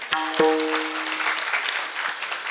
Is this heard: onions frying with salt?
no